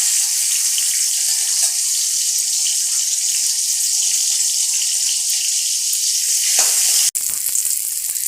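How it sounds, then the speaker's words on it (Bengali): Whole spices sizzle and crackle steadily in hot oil, tempering for a winter vegetable curry, a loud continuous frying hiss that stops abruptly near the end. "আমার ফোড়ন হয়ে আসছে,"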